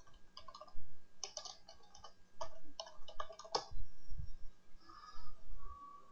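A search is typed on a computer keyboard in uneven bursts of close, sharp key clicks with short pauses, followed by a few softer taps and faint low thuds.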